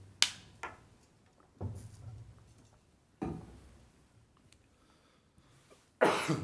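Four separate coughs break an otherwise quiet room during a school board meeting, spaced a second or two apart, each sharp at the start and quickly fading.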